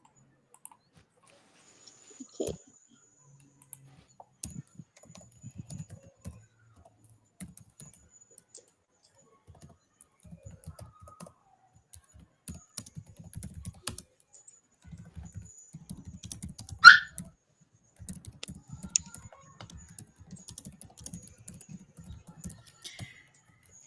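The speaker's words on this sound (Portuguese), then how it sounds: "eu estou digitando ali no grupo do WhatsApp" Someone types a message on a computer keyboard in close, irregular bursts of soft key clicks separated by pauses, ending in a denser run of tapping.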